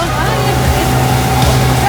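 A small motorboat engine drones loudly and steadily close by as it speeds on a lake, with rushing water noise underneath.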